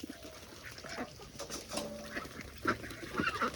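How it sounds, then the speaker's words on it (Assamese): Ducks at a duck farm in Assam being caught by hand for weighing, giving repeated quacks and honks with flapping and scuffling close by, with no talk. "এতিয়া এনেকৈ ধৰিব লাগিব হাঁহ।"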